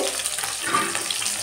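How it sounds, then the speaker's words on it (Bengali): Fish frying in a pan in a home kitchen, giving a steady, dense hiss and crackle that runs unbroken and fairly close throughout. "মাছ ভাজা হচ্ছে"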